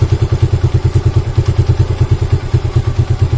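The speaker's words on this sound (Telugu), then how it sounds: "సో డౌన్ చేస్తే నా వెహికల్ అనేది ఆగిపోతుంది" A motorcycle engine idles with a loud, close, regular thumping pulse as the idle speed is turned down, the beats running steadily with no speech.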